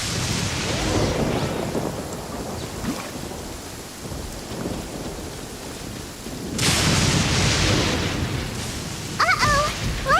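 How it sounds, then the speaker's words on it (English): A video game thunderstorm with steady heavy rain hissing throughout, a deep rolling rumble of thunder early on and a loud crack swelling near the end, with no talk. "Uh-oh! Lightning storm!"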